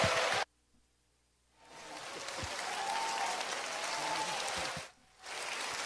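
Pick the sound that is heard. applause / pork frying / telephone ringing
applause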